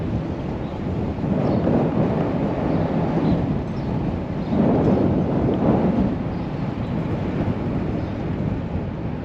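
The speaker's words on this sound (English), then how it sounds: "It's kind of windy today." Steady outdoor wind buffets the microphone in broad, continuous rumbling waves that swell and ease, with no talking.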